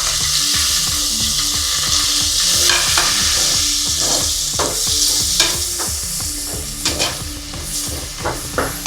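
Chopped onions for soya bean biryani sizzle in a pan, with a continuous fry hiss and repeated scraping stirs of a spoon against the metal.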